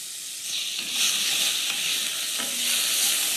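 Onion and garlic fry in a pan over lowered heat after a veal roast: a steady close sizzle and hiss with occasional stirring scrapes, loud and continuous throughout.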